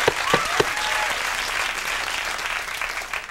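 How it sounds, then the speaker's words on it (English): An audience claps steadily in a dense burst of applause, fairly close, with a few sharper claps standing out at the start. "Thank you, applause sign."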